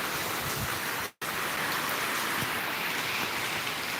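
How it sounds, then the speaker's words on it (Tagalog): Steady typhoon rain pours down continuously, a dense even hiss of falling water with a brief dropout partway through. "may kasama na siyang ulan"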